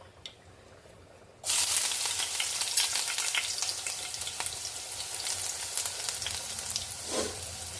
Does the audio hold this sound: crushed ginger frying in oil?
yes